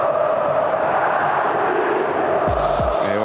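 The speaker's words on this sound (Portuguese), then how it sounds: "Eu acho que a torcida tá até cantando pro Gabigol, né?" A football crowd in a stadium chants for Gabigol, a dense, steady roar of many voices singing together, with a few sharp tonal sweeps near the end.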